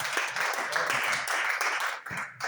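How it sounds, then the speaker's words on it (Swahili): A church congregation claps for the preacher in dense, sustained applause from many hands filling the room, with a short dip near the end. "Si tupigie mtumishi wa Mungu makofi."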